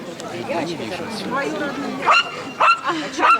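Dog barks and yips in a busy show setting, several sharp barks toward the end standing out over people talking nearby.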